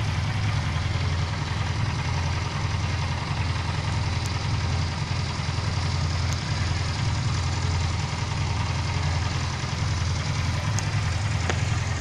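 Honda CB 250 motorcycle engine idling steadily and evenly, a continuous low rumble that stays at one level throughout, close by and alone with no talk.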